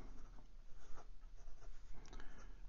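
A Ranga 4C ebonite fountain pen with a size 6 broad steel nib writing on Clairefontaine 90 gsm paper, a close continuous scratching of nib strokes with brief pauses and no talk.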